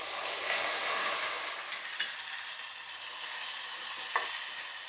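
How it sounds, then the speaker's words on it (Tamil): Chopped tomatoes hit a hot pan over golden fried onions for a green peas pulao and sizzle steadily, with a few spoon scrapes and stirring clinks now and then. "நம்ம இதில் தக்காளியை ஆட் பண்ணிக்கலாங்க."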